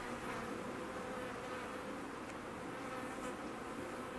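Honeybees buzz during an inspection of a hive in an apiary: a dense, steady drone of many bees, fairly quiet and continuous with no voices.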